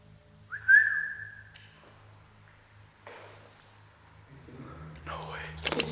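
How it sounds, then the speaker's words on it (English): A single short whistled tone rises and holds briefly, thin and distant down an abandoned hospital building at night, followed by faint rustling and low background hum. "that sounds so much like someone whistling from the end of the building"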